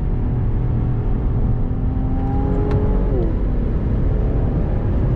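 Engine note of a 2021 Infiniti Q60 Red Sport 400 luxury sport coupe at speed, a loud continuous drone whose pitch drops sharply partway through as the transmission downshifts, with steady road and wind roar throughout.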